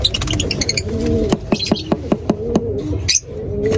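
African lovebirds in a mini aviary chirping and twittering nearby, with a short series of rhythmic pecking taps and a person talking quietly in the background.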